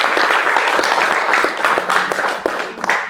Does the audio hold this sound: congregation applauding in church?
yes